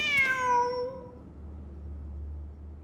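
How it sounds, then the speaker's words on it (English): A cat meows in the Genshin Impact video game, one clear descending call with rich harmonics, loud and close, then trailing off into a low steady background hum with no speech. "Wait, there it is! The cat!"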